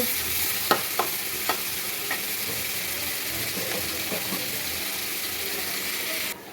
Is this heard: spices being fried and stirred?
yes